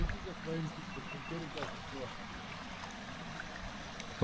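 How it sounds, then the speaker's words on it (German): A spring-fed stream flowing into the Inn river, heard from a paddling boat as a low steady gurgle under close conversation. "Das ist ein Bach von oben oder ist ein reiner Quellbach, der da rauskommt?"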